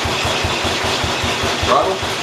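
A John Deere 212 lawn tractor engine turns over and catches, a steady mid-pitched mechanical drone close by, with speech mixed in.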